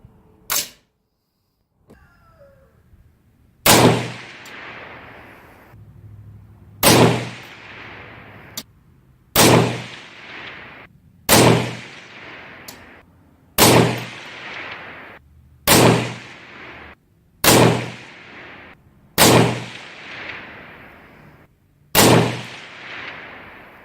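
A .224 Valkyrie rifle firing Hornady 88 grain ELD Match factory ammunition, ten loud sharp shots spaced a few seconds apart, each with a short ringing decay, plus a faint earlier pop.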